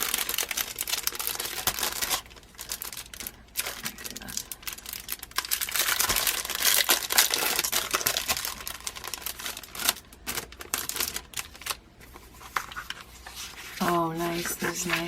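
Sheets of paper ephemera handled and shuffled, with continuous crinkling, rustling and flapping close by for the whole stretch, irregular bursts rising and falling, and a brief voice near the end.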